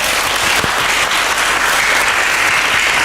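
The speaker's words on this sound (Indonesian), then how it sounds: "Tepuk tangan bagi Yesus." A church congregation applauds together, a dense, steady wash of clapping that stays loud and even throughout with no gaps.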